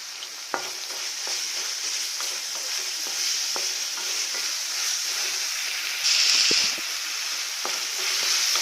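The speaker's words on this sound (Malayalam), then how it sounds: "ഇഞ്ചി വെളുത്തുള്ളി ചതച്ചത് അതിലേക്ക് ഇട്ടിട്ട് വഴറ്റുക." Crushed ginger and garlic sizzle and fry in hot oil while being stirred for a Kerala fish curry with kudampuli, steady hiss with frequent scraping stir clicks and a brief louder burst of sizzle near the end.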